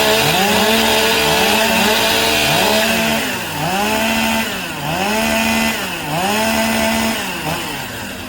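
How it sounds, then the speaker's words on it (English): Several chainsaws rev and idle loudly at once during the warm-up before a timber chopping heat, engines rising and falling in repeated overlapping surges, close and continuous with no talk. "15 seconds to warm up your saws."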